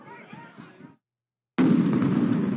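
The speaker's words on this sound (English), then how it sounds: "Another explosion there of tear gas." A tear gas canister at a street protest goes off with a sudden sharp bang, followed by a loud sustained hiss and rush of noise. Speech-like sounds come just before it.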